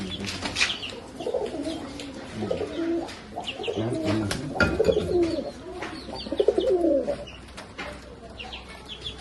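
A pair of pet pigeons coo in soft, throaty rolling bursts nearby, repeating in uneven phrases with a few wing flutters and faint chirps around them.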